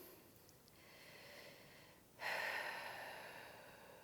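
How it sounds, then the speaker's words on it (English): Slow, deep breaths during a pregnancy cool-down stretch for hip and pelvic floor release, a soft inhale and then a louder, longer airy exhale, close and quiet with no talk. "And just breathing here."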